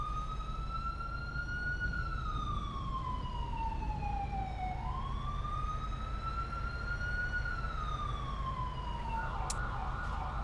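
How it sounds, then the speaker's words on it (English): Police siren from the GTA 5 video game, a steady wailing tone that rises and falls slowly over a constant low rumble of background noise, moderately distant and without speech. "I like the sound of sirens."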